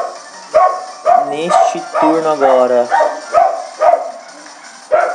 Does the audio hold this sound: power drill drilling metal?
no